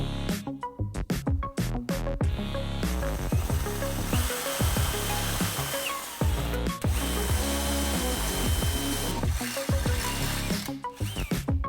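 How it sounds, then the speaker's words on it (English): A power drill bores holes in a steel rear track bar bracket on a Jeep Wrangler JK axle, loud whining bursts with spin-ups and stops, ending in sharp clattering as the bit works through metal. "we're going to mark 2 holes and drill them out to 3/8"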